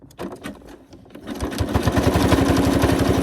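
A sewing machine stitches around fabric with a fast, even mechanical chatter that starts after a few scattered handling clicks and runs loud and steady to the end, with no talking.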